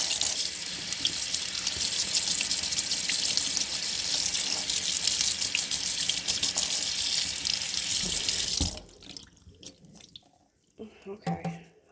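A faucet pours steadily and loudly into a sink as makeup brushes are rinsed under it. After about nine seconds the flow cuts off, leaving quieter handling and dripping sounds.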